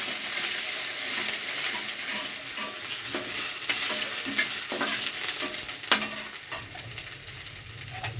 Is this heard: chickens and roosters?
no